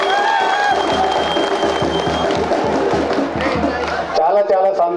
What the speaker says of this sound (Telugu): మీ అందరి చప్పట్ల మధ్యలో మన నాయకుడు ప్రశాంత్ రెడ్డి గారికి మరొక్కసారి ఘనమైన స్వాగతం